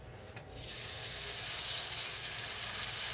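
Steak dropping into a smoking hot oiled pan, bursting into a steady, loud broadband sizzle that starts abruptly after a quiet half-second and holds evenly, close and alone without talk.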